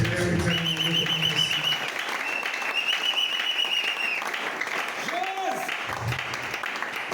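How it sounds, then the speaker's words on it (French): A church congregation at a Sunday thanksgiving service applauds in a sustained, even roar of clapping. Voices and sustained musical tones ring over it. "Acclamons très fort pour nous."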